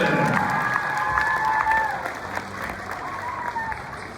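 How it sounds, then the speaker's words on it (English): Applause and cheering from the crowd at a middle school eighth grade recognition night for basketball players, moderately distant and steady, with voices talking over it throughout. "let's give a big round of applause to Isla Wilson"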